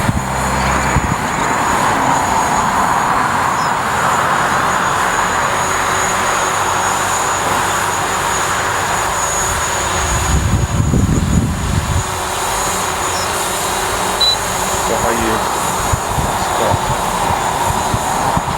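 A DJI Mavic Pro drone flies in a circle, giving off a steady, loud, high-pitched whirring hum that continues for the whole stretch with no voices.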